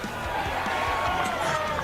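A crowd at a local Australian rules football match between North Ballarat and Darley roars after a goal, a dense, sustained swell of cheering and voices that holds steady for about two seconds.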